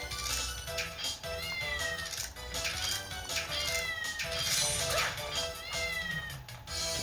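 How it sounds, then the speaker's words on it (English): Cats in the Castlevania Dominus Collection game meow repeatedly in loud, overlapping rising calls over busy game music and effects, some drawn out like caterwauls. "Oh, what the hell? I hit a cat?"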